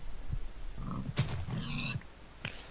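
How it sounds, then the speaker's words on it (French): Pigs grunt and squeal in Minecraft, a herd of blocky farm animals giving several short oinks in quick succession, close and clear against a faint game background with no talk. "Ah bah là-bas il y a un troupeau de cochons."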